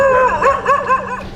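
Stray dogs in Karachi bark and yip loudly in a quick, close run of several barks, with a whimpering edge and no speech.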